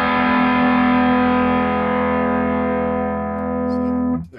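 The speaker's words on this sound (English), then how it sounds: "it's more like a power amp overdrive that's built into this" A single guitar chord through a 1979 Marshall JMP 2203 MKII amp with built-in power amp overdrive rings out loud and sustained, decaying slowly before being muted.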